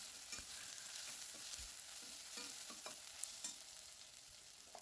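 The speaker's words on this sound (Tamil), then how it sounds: "ஒரு டீஸ்பூன் இஞ்சி பூண்டு பேஸ்ட்டு அதையும் சேர்த்து நல்லா வதக்கிக்கோங்க." Onions with ginger garlic paste sauté in a pan, giving a soft, steady sizzle with scattered stirring scrapes and clicks, faint and close.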